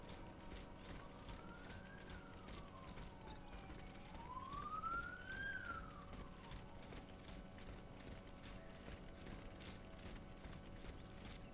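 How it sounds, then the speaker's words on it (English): Police car siren from outside the room, faint and distant, wailing up and down in slow rising and falling sweeps beneath steady game audio and a rhythmic clopping. "if you guys hear the police sirens, that's not in game"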